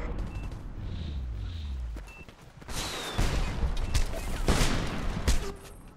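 Gunfire in the multiplayer video game Homefront: bursts of rapid shots and a few louder single blasts ring out over game effects and background noise, fairly loud and close.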